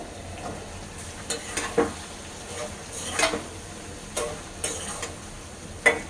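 Duck egg bhuna frying in a pan, with a soft steady sizzle and irregular scraping stir strokes of a spoon against the pan, fairly quiet and close.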